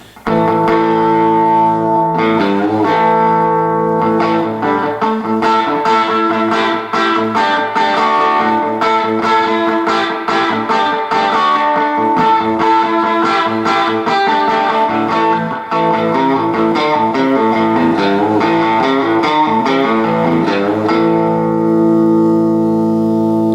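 Electric guitar with a RebelSonic pickup played through a Fender Deluxe Reverb amp, loud sustained chords and ringing notes with long decay and a touch of reverb, playing continuously without talk.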